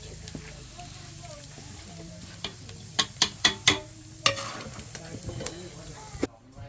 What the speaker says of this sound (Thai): มันแตกจวกจวกเวลาพัดนะ